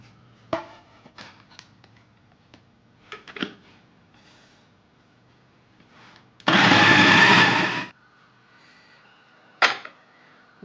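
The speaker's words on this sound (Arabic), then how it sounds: "غادي ندير الدجاج هنا باش نطحنوه" Blender grinding raw chicken for a Chinese-style chicken mortadella, a loud steady whirring roar lasting about a second and a half, set among quiet kitchen clatter and brief knocks before and after.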